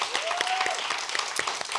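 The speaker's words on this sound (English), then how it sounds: "Can we give them a huge round of applause?" Audience at an awards ceremony for a short story contest applauding museum staff, a brief burst of clapping with a voice briefly audible over it.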